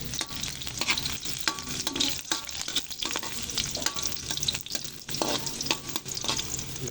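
Garlic sautéing for tinola in a pan gives a loud, continuous, close sizzle and crackle, broken by stirring scrapes, with no talking.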